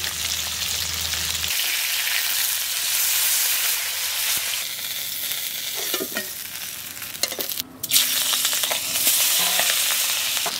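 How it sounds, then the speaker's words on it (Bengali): Magur catfish fry in hot oil in a pan, giving a loud, dense sizzling hiss near at hand, with stirring scrapes and a brief sharp clatter around the middle before the frying noise settles. "এবার ওর মধ্যে মাছগুলো ভেজে নেব"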